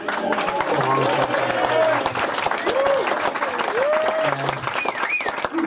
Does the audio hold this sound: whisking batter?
no